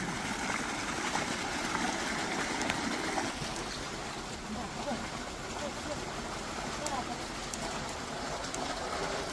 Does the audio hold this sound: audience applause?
no